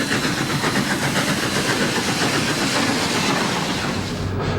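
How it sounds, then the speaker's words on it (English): Two steam locomotives push a White Pass & Yukon narrow-gauge rotary snow plow, a loud, continuous mechanical rumble and chugging roar with a faint rhythmic beat running steadily throughout. "A typical rotary fleet comprised of plow, 2 steam locomotives to push it, and a caboose."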